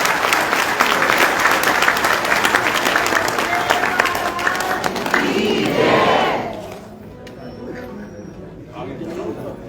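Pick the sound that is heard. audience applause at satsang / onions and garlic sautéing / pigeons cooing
audience applause at satsang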